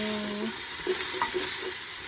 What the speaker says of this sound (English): My neck bones continue to cook, and my tripe is also boiling.